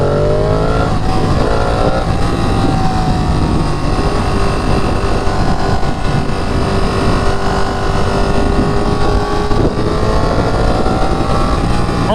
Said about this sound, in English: if I let off the throttle and then, like, roll the throttle again, I bet you I can do a wheelie right there